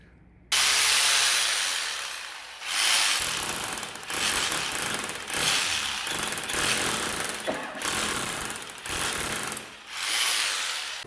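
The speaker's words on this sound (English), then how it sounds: "we're going to drill a hole through here into the garage and feed the LAN cable accordingly" Loud, harsh drilling through a house wall into a garage grinds on and off in several long bursts, close by, with brief pauses between pushes.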